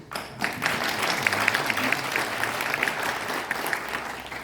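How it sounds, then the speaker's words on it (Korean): Congratulatory applause fills a hall at an awards ceremony and forum marking World Day Against School Violence, with dense clapping that rises quickly after a brief pause and holds steady. "축하의 박수"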